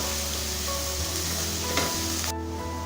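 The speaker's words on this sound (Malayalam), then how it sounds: "ഉപ്പ് ചേർത്ത് വഴറ്റുമ്പോൾ സവാള പെട്ടെന്ന് വഴണ്ടി കിട്ടും" Sliced onions with salt sizzle steadily in a hot pan, a dense, loud frying hiss running throughout with a few light stirring scrapes, then cutting off abruptly near the end.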